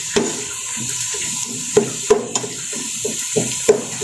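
Onions for a fish curry fry in a pan until brown, giving a steady low sizzle with scattered clinks and scrapes of stirring, fairly close and with no talk.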